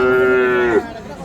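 A Friesian cow lets out one loud, drawn-out moo at the Ambari cattle market in Dinajpur, where heifer calves are traded. The call is close and steady, then breaks off sharply and leaves quieter background noise.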